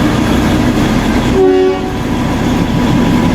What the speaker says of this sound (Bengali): দেখতেই পাচ্ছ আমাদের টয় ট্রেন চলে এসেছে